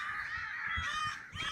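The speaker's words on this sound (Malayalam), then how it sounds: "കാക്കയുടെ സൗണ്ട് കേൾക്കാൻ പറ്റുമെന്ന് തോന്നുന്നു." Crows caw in a mangrove forest, several harsh repeated calls close by and moderately loud, with no talking over them.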